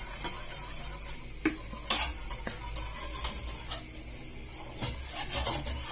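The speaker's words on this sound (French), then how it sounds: "Remuez bien pour" A spoon stirs a mixture in a Cookeo pot, giving soft scraping and a few sharp metallic clinks against the sides over a faint background sizzle, close and fairly quiet.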